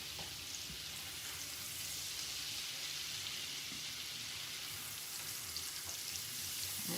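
Sun-dried tomatoes fry in a pan with a steady, dense sizzle and crackle that runs unbroken throughout, close and even, with no voices.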